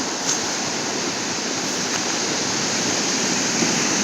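Low-tide surf on a quiet, empty beach at Mararikulam, a steady broadband wash of waves rolling in continuously at moderate loudness with no voices.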